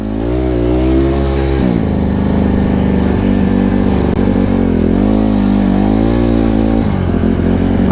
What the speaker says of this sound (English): maybe my bike will warm up a little bit more